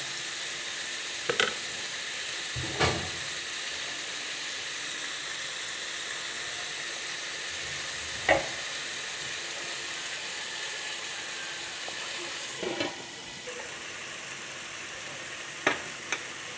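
Tomatoes sautéing in a pan for prawn thokku, a steady close sizzle and crackle throughout, broken by a few sharp scrapes and knocks of a spoon stirring.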